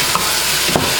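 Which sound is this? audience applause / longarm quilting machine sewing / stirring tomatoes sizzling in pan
stirring tomatoes sizzling in pan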